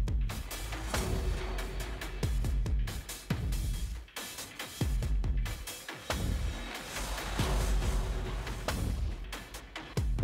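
A dense triplet percussion loop from the Heavyocity Damage 2 library pounds with heavy booming hits and clattering metallic layers in a driving, rolling rhythm. It is loud and continuous, with brief dropouts between phrases.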